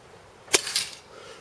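Uragan air rifle fired at a rat target 25 metres away on a breezy range: one sharp crack followed moments later by a fainter impact smack.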